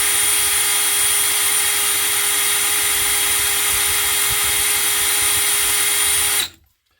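Non-genuine SDS drill running on a test battery, a loud steady high-pitched motor whine held continuously before cutting off abruptly near the end.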